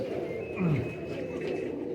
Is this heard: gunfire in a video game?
no